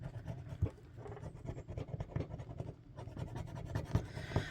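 A scratch-off token is scratched with quick, close, rhythmic scraping strokes. The strokes come in short bursts with brief pauses, and no one speaks.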